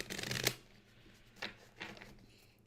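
Tarot cards being shuffled during a three-card spread, a close papery riffle at the start followed by two shorter, softer shuffling bursts, with no talk.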